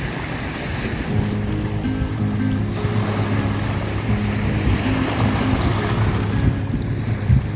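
Steady wash of surf along the shore with a low motor drone underneath, continuous and moderately loud, no voices.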